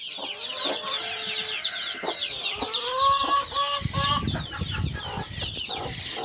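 Chicks cheep in a busy chorus of high, rapid peeps, with occasional lower clucks and rustling close by.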